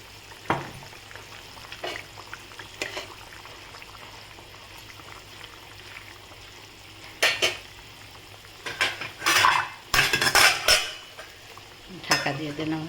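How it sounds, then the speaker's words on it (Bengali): Fish goes into a pot of boiling curry gravy and a lid is set on it, heard as scattered metallic clanks and scraping bursts over a quiet bubbling background, clustering more busily toward the end. "ঝোলটা ফুটে গেছে, এবার আমি মাছটা এতে দিয়ে দিচ্ছি।"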